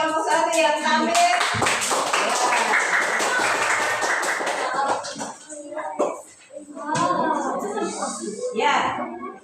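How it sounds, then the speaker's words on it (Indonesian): Fifth-grade primary school pupils in an Indonesian classroom clap for a student group after its presentation, a lively burst of many hands mixed with children's chatter, then fading into talk and scattered taps. "Tepuk tangan untuk kelompok 1 yang tampil."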